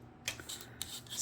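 A sheet of black scrapbooking paper torn by hand: a few short, dry ripping bursts at irregular intervals, close and fairly quiet, with no talking.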